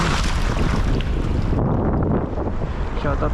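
Strong wind at the ocean shore during shore-casting in the Philippines buffets the microphone in loud, rough gusts, with waves washing in underneath; the roar eases slightly partway through.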